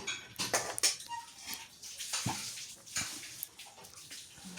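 Bowls and dishes being washed by hand with running water, close splashing and gushing mixed with sharp clinks of dishware, irregular bursts over about four seconds with no talk.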